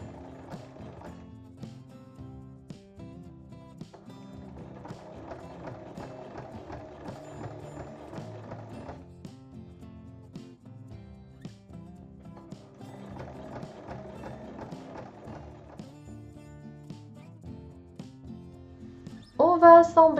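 A sewing machine stitches rows across fabric to form compartments in a makeup pouch, giving rapid mechanical clatter in bursts separated by pauses, fairly quiet and close, with a sharper knock at the end.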